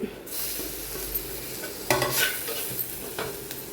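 Chili powder, coriander powder and tomato sauté in a pan for a kanthari mussel roast, giving a soft sizzle under close spatula stirring scrapes and a few sharper clinks near the end.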